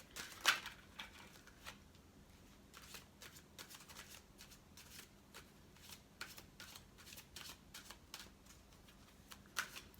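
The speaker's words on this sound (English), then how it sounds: "I'm going to pull some cards from the Wisdom of Oracle deck." An oracle deck is shuffled and cards are pulled, giving soft riffling and papery slaps in irregular bursts, close and quiet, with no speech.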